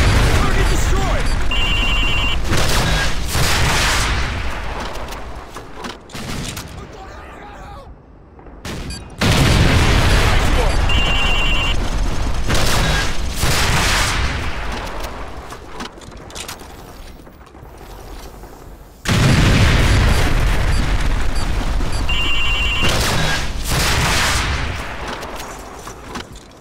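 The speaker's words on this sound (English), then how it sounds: "we're taking heavy fire on our position north of the overpass" Call of Duty 4 battle on a bridge with heavy automatic gunfire, mechanical rattling and booming explosions in loud repeated bursts, with brief lulls between volleys and shouted voices mixed in.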